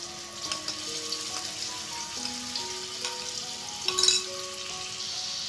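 Masala paste for chana chaat sizzling in a hot pan, a steady crackling hiss with a brief louder flare near the end, under soft background music.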